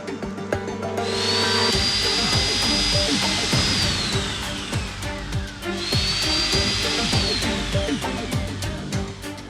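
A power drill whines loudly and steadily, its pitch rising and falling twice as it bores holes through a suitcase, with rattling and clattering underneath.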